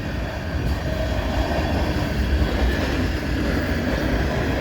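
CN freight train M396-71 rolls past near the VIA station in London, Ontario, a steady, loud rumble of wheels and railcars continuing without a break.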